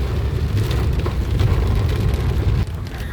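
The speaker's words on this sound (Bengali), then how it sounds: "কি বৃষ্টি হচ্ছে" Steady, dense rain hisses loudly and continuously at New Jalpaiguri railway station, a broad wash of noise with a low rumble underneath, like a downpour close by.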